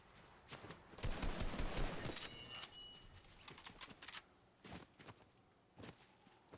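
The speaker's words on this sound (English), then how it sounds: "They're shooting me from tilted now, Will." Gunfire in the video game Fortnite, a quiet burst of rapid overlapping shots followed by scattered single cracks, fairly distant and faint.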